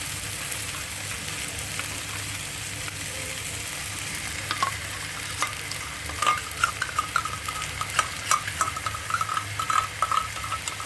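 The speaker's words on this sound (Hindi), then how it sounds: "दही डाल देंगे और दोबारा से ऑयल सेपरेट होने तक इसको पकाएंगे" Yogurt and a spice mix cook in hot oil for a raw guava sabzi, giving a continuous soft sizzle and frying hiss, with scattered stirring clicks and scrapes growing busier toward the end.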